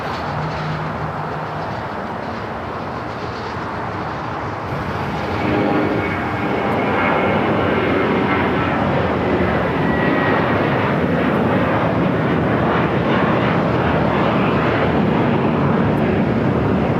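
An Emirates airliner on runway 24 left at Los Angeles International Airport gives a loud continuous jet engine roar that builds after a few seconds and holds steady, with no voices.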